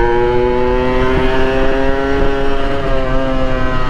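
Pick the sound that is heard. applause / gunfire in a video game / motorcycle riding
motorcycle riding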